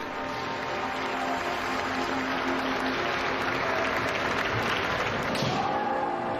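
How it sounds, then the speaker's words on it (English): A kendo opponent claps his hands in sporting acknowledgement after a scoring strike in a Japanese match, heard as steady broadband patter that runs throughout and is fairly loud and close. "Clapping his hands, his opponent sportingly acknowledges Éigga's technique."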